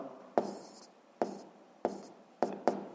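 Handwritten notes for a 7th-grade physics exercise: five separate pen or chalk strokes land at irregular intervals, each a short close scratch that fades quickly, with no voices.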